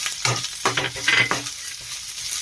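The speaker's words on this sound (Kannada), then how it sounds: "ಇವಾಗ ನಾನು ಇದಕ್ಕೆ ಮೆಣಸಿನ್ಕಾಯಿನ ಆ್ಯಡ್ ಮಾಡ್ತಾ ಇದ್ದೀನಿ." Green chillies drop into a pan of frying chicken, giving a close, steady sizzle with a few stirring scrapes and short bursts of crackle.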